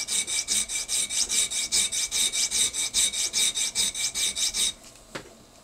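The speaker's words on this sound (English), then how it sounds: "keep sawing and just keep moving your saw blade until you get to where you want to go" A hand saw cuts through a dental stone model in a prosthodontics lab: rapid, even back-and-forth rasping strokes, about four per second, close and loud, then stopping abruptly with a faint clack afterward.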